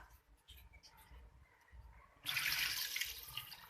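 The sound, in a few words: water poured into beef karahi pot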